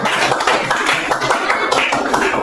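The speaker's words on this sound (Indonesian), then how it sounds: "Kita berikan aplaus, silakan." An audience in a classroom teaching demonstration gives a short burst of applause, dense, continuous clapping from many hands throughout.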